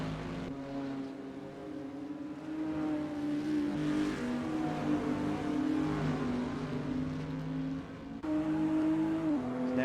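Toyota Supra GT4 race car engine in a racing game at Bathurst, a steady droning engine note holding pitch with slight rises, moderately loud and continuous, with another car's tone mixed in.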